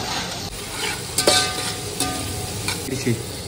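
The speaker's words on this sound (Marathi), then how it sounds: "एवढं पनीर मी इकडे फ्राय करून घेतलंय" Paneer sizzles as it fries in a pan in a makeshift farmhouse kitchen, with a loud continuous crackle broken by several scraping stirs of the spatula.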